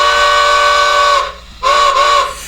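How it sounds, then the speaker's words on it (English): A model train's steam whistle from a SoundTraxx sound decoder, two loud close chime-like blasts: a long sustained tone, a brief break, then a shorter second blow. "we'll go ahead and blow our whistle."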